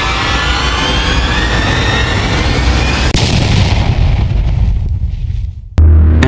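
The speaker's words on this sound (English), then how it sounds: "This impact creates loud banging sounds and may damage valves, bends, supports" A rushing, hissing roar of steam in a pipeline is broken by two sharp, heavy water-hammer bangs, the second one louder and abrupt.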